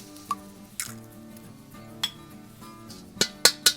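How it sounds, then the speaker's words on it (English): Eggs are cracked against a bowl while making smoked meatballs with Italian sausage, giving several sharp, isolated clinks and taps close by, spaced out and then clustered near the end, with no talk. "I'm gonna take 2 eggs and crack that into the bowl."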